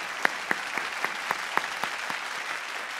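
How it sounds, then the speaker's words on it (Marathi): Audience at a Marathi film awards show claps in a thin, rhythmic pattern, with a few distinct loud claps spaced evenly over a soft background of scattered applause. "त्यांच्यासाठी जोरदार टाळ्या व्हायला पाहिजेत."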